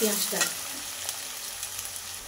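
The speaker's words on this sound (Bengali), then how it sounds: "পেঁয়াজটা দিয়ে তেলের মধ্যে ভেজে নিতে হবে।" Two large chopped onions fry in hot oil with a soft, steady sizzle and a brief stirring scrape at the start, fairly quiet throughout.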